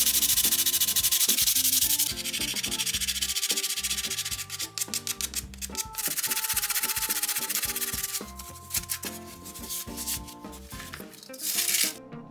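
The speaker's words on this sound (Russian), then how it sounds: "Все заготовки нам необходимо немного отшлифовать." Egg-carton angel figures are rubbed with sandpaper or a nail file in close, scratchy strokes, first a long steady stretch and then a quicker run of short, uneven scrapes with brief pauses.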